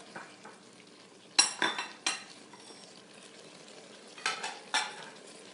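Beef stew ingredients with garlic sear inside a pressure cooker on its sear setting, a low sizzle under several sharp bursts of spoon scraping and clanking against the metal pot, close by and without speech.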